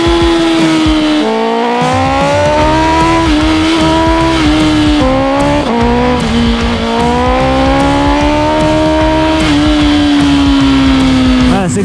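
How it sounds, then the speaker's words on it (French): A BMW M1000RR sport motorcycle rides hard through mountain road curves. The engine note is loud, close and high-revving, climbing and dropping with shifts throughout, with wind rush behind it. "histoire de voir ce que la bécane donne en virage sur des petites routes de montagne"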